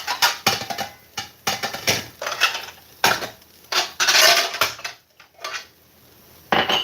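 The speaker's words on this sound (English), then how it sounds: "so put some dishes away. Some dishes downstairs." Dishes are put away, with ceramic and metal pieces clattering and knocking in irregular bursts, some sharp clinks and scraping between short pauses, close by and with no talk.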